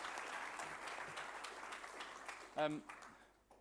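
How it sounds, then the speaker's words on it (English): Faint audience applause at a football opening ceremony, a soft continuous patter of clapping that fades out, with a brief voice cutting in near the end. "Please give him a warm round of applause."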